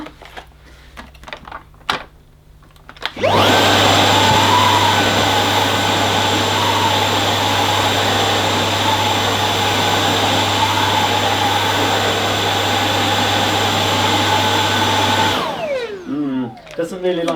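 Dyson Ball DC49 multi-floor ultra-compact vacuum cleaner running on pile carpet, a loud steady whine and motor drone that starts abruptly, holds for about twelve seconds, then cuts off and winds down.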